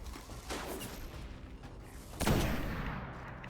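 A single sharp sniper rifle shot in the video game Destiny cracks out, followed by a brief fading echo, over faint background noise.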